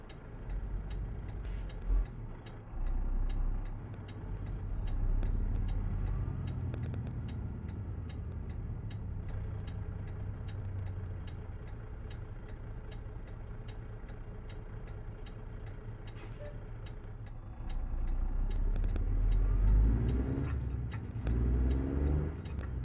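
Truck cab interior noises in American Truck Simulator, hauling a heavy load through winter Colorado: a steady low engine drone with a rhythmic ticking and occasional rising revs, moderately quiet and alone.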